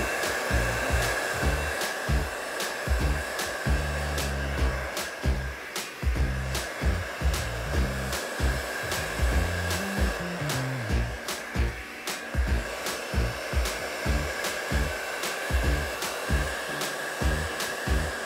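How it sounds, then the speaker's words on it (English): A hair dryer blows loudly and continuously while working already-dry hair over a round brush, its steady whooshing whine pulsing rhythmically as the airflow shifts with the brush strokes. "I'm using the heat from the blow dryer act as a hot tool with the round brush"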